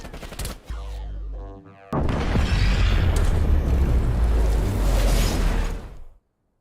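A Mac 10 submachine gun fires in a first-person shooter video game, a short burst followed by a loud, sustained stream of rapid automatic fire lasting several seconds before cutting off abruptly.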